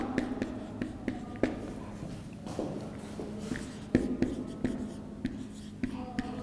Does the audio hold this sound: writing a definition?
yes